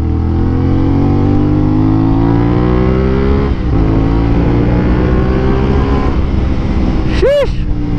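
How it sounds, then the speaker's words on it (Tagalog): A BMW S1000R motorcycle's fitted aftermarket exhaust revs loudly and close, its pitch sweeping up and down through several throttle blips before a final sharp rise and drop. "ewan ko kung naririnig yung exhaust natin, yung nakakabit na exhaust sa atin"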